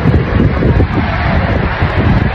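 Steady blustery wind roars across the microphone, a broad rumbling wash with gusty swells and no voices.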